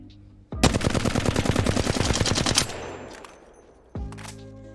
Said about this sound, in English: I'm going to shoot at the wall without moving my hand.